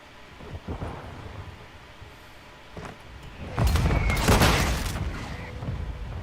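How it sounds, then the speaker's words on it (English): Mortar strike explosions in Call of Duty: Modern Warfare II, a rumbling burst of heavy booms building after a few scattered distant thuds, the blasts swelling loud and rolling with debris-like crackle before settling into a sustained roar. "Hostile mortar strike incoming"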